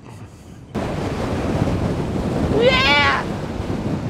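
Wind gusts across a lake, a steady broadband rush that swells after a quiet start, with a brief squeaky cry rising near the end.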